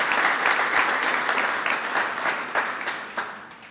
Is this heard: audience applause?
yes